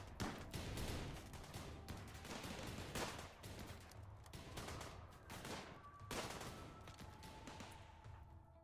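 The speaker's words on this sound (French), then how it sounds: "Ah si, ça y est, ils tirent." Faint, distant bursts of rapid gunfire and scattered single shots from colonists fighting in the video game RimWorld, overlapping in dense volleys.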